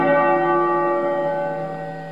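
A large bell rings out with one long, sustained metallic tone that slowly fades over about two seconds as disciples of the Hằng Sơn sect file out in a procession. No voices are heard.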